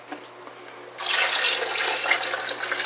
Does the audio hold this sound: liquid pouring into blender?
yes